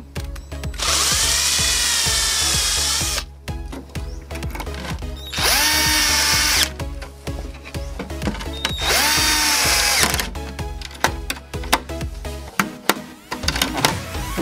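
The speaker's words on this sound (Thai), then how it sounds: "เสร็จแล้วก็นำสว่านนะครับ" A power drill whirs loudly in three long bursts, bit grinding into wood for fitting cup hinges on a cabinet door, with scattered knocks and clatter between runs.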